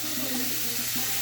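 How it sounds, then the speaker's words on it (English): Chicken and rice sizzle in a paella pan as a steady, close, broadband hiss with a faint low hum underneath. "hear that sizzle"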